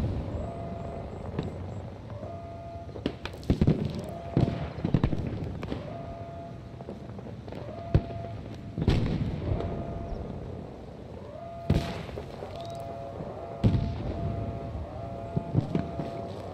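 A demolition charge detonates at an objective in Battlefield 2042, heard as several sharp, booming blasts scattered over steady wind-like battlefield ambience.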